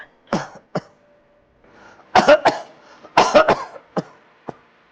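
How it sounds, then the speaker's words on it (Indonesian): A man coughs repeatedly in a quiet room, several harsh bursts, some in tight doubled clusters, separated by short silent gaps, close and loud with no talking. "Kasihan Papa. Batuk-batuk terus."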